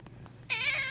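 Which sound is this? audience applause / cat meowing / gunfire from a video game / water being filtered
cat meowing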